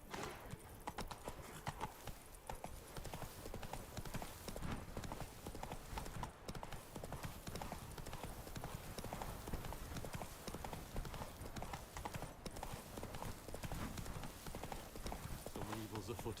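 Roach the horse's hooves in The Witcher 3, a constant rapid clip-clop of hoofbeats over rocky ground with game ambience, someone talking over them.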